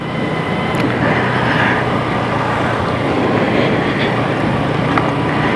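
A KTM 390 Adventure motorcycle engine holds a steady drone around 4,000 RPM while riding at about 30 km/h in third gear, mixed with constant wind rush.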